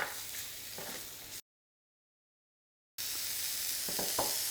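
Mushrooms sizzling in a hot pan while being stirred around, a close, continuous bright hiss with occasional soft scrapes, broken by a brief gap of silence.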